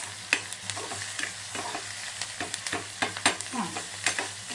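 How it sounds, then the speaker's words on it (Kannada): Garlic and curry leaves are stirred in a pan with no oil, for a brinjal palya. Crisp scraping strokes and light sizzling crackle repeat in a quick, uneven rhythm close up. "ಈಗ ಬೆಳ್ಳುಳ್ಳಿ ಹಾಕ್ತೀನಿ. ಬೆಳ್ಳುಳ್ಳಿ ಈಗ ಸ್ವಲ್ಪ ತಿರುತ್ತೀವಿ."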